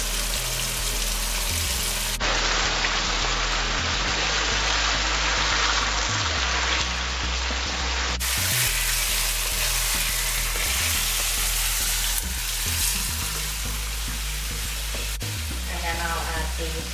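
Onion frying in a pot, a loud close steady sizzle with crackling and occasional stirring scrapes running continuously, the hiss changing in strength a few times.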